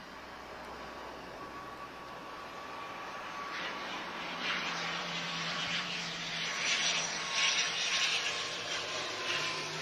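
Swift Air airliner arriving at Lisbon Airport from Madeira, a steady broad engine roar that swells gradually over the ten seconds as the aircraft draws nearer, continuous with no talking.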